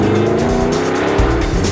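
A Shelby Daytona Coupe replica race car, a copy of the 1965 Le Mans winner, roars loudly at close range, its engine note dense and sustained with tire noise mixed in, no voices.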